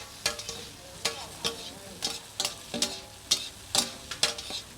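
Cooked cake fries in pork fat on a street griddle at a Bangkok morning market, a steady sizzle under regular metal spatula scrapes and clanks repeating about every half second.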